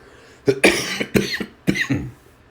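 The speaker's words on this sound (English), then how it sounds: "Can you please edit out the coughs?" Four rough coughs in a quick, uneven series, close and fairly loud, with quiet gaps between them.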